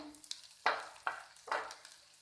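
Finely chopped garlic fries in oil for a homemade pasta pizza, sputtering in three distinct bursts of crackle and sizzle with quieter gaps, close and fairly soft.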